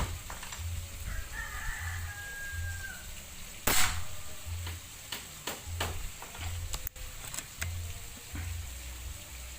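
A single sharp shot from a Predator Tactical 500cc folding air rifle cracks out near the middle, a loud short burst over steady background hum and scattered clicks.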